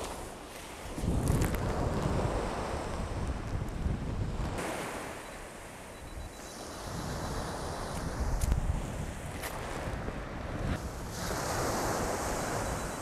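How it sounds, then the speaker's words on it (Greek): Rough sea waves crash and surge near the Drepano lighthouse outside Patras, a continuous loud roar of surf with repeated swells and heavy wind buffeting the microphone. "Μανιασμένη θάλασσα."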